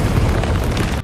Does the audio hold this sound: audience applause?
no